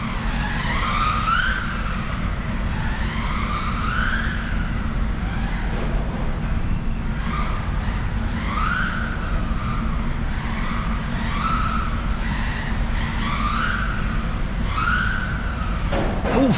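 A 1/16 scale brushless RC car races fast around an indoor track, its motor whining in rising and falling sweeps lap after lap over a constant hum, loud and continuous.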